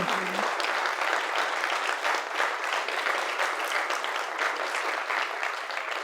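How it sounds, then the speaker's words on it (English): A small workshop audience at a film commission event gives a round of applause, a steady, moderately close patter of many hands clapping without pause. "let's give Rebecca a round of applause"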